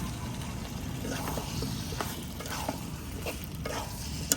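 Small red potatoes and little fish are stirred into hot frying masala with turmeric and chilli, producing a continuous muted sizzle and soft scraping stirs close by.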